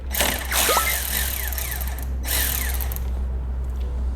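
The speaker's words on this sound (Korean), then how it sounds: "요거는 제가 요 라쳇 갖다가 했는데" A hand ratchet loosening a car battery terminal clicks rapidly in close, repeated runs with a brief pause midway, steady engine-bay hum beneath.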